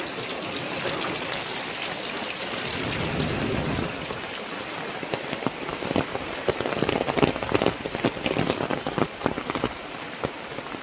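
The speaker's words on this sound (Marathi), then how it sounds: "पाऊस आला मोठा" Heavy rain pours steadily onto surfaces outdoors, a dense continuous hiss with scattered louder drips and patters that grow busier toward the end, with no voices.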